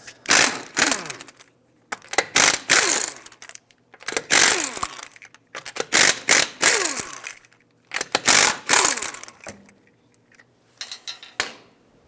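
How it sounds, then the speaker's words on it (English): Lug nuts on a 2003-2007 Nissan Murano wheel come off in repeated bursts of loud rattling, ratcheting metal from a tool on a 21mm socket. Short quiet gaps separate the bursts, and there is no talking. "21mm socket, take off all 5 of your lug nuts."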